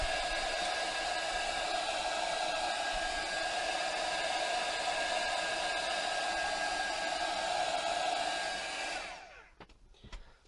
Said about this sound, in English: use my heat tool to draw it with, and then just kind of draw the spot